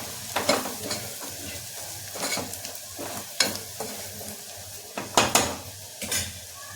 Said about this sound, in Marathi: आता हे जे आपण लाल तिखट, गरम मसाला, धना पावडर घेतले ते टाकायचं आहे. छानपैकी परतवून घ्यायचं.